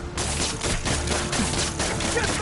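Enemy gunfire in the Spider-Man PS4 video game, a rapid burst of repeated shots fired in quick succession amid loud game action, with no clear talking.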